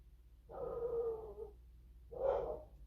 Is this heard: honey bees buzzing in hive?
no